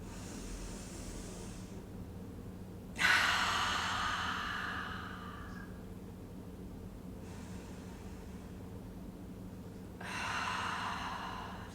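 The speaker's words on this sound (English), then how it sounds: "let's just start by taking some nice big inhales through the nose and exhale through the mouth" Slow, deep breathing during a gentle post-surgery mobility exercise: a long inhale through the nose followed by a loud, airy exhale through the mouth, then a quieter breath and another strong exhale, near and unaccompanied by talk.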